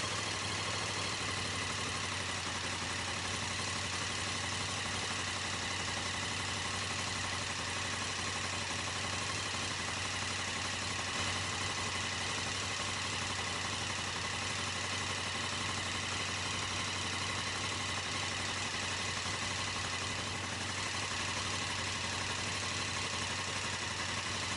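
A motorcycle engine idles steadily after being switched on, a low constant hum and drone with no speech, fairly quiet and unchanging throughout.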